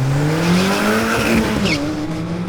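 A cheap drag race car launches hard with a loud, sustained tire squeal and rising engine whine, close and continuous for a couple of seconds.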